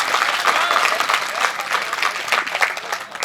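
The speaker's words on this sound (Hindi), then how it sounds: "मैंने बोला और ये सब ताली बजाने लग गए" An audience at a protest by CHA employees claps steadily, dense and loud, the applause filling the whole moment with a faint crowd murmur underneath.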